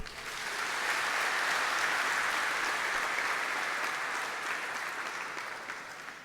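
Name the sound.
applause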